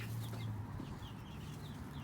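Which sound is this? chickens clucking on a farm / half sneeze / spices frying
chickens clucking on a farm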